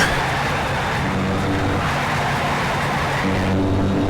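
A Dodge Challenger races around Silverstone's National circuit in NFS: Shift, its engine roaring loud and close with a steady, gritty drone and brief shifts in pitch, with faint tire noise.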